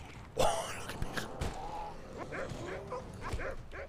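A dog barking, yipping and whimpering in the video game Decision Red Daze, several short sharp barks and whines in a row under a player's voice, with game mechanism noises behind.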